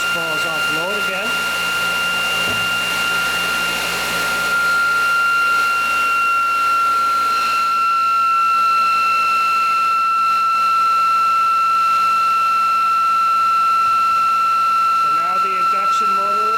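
A ReGen-X generator driven by an induction motor, with the generator coils taken off load, gives a steady, loud electrical whine and hum with sustained high tones.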